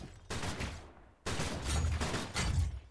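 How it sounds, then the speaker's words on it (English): Rapid flak cannon fire in a Stormgate match, two dense bursts of loud crackling shots, the first stopping briefly before a second, longer volley. "especially with the flak cannon shooting off like that"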